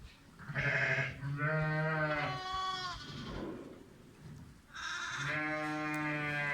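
A Zwartbles ewe bleats with her lambs nearby, with several long, wavering calls close by separated by short pauses.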